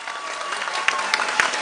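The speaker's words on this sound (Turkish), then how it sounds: "Alkışlarımız lütfen devam ediyor" Audience applauding an orchestra and choir at a live broadcast concert in Tokat, a dense, continuous roar of clapping with sharper individual claps popping out, loud and close.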